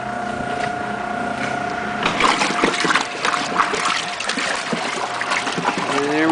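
An Easy washing machine runs, agitating water and laundry. A steady motor tone gives way to loud, continuous sloshing and splashing, churning close by for several seconds with no clear talk.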